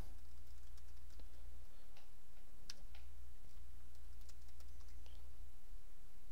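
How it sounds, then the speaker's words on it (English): Keys tapped on a computer keyboard while a Rails command is entered, a sparse run of light close clicks over a low steady hum, no talking. "I'm going to type Rails new"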